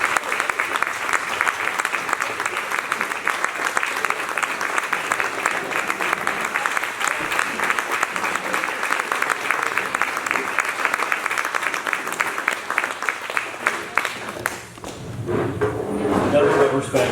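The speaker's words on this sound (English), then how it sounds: "Let's all stand to give God a round of applause," A standing audience at an April 2019 Blue Skies planning meeting gives sustained, loud applause. Dense clapping fills the room steadily for about fifteen seconds, then thins out near the end into scattered claps and crowd murmur.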